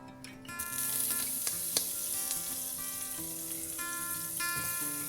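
Two spoons of butter melt in a medium pot over medium heat on an electric stove for a Sri Lankan mutton curry, giving a steady, close, bright sizzle and crackle that holds from start to finish with no voices.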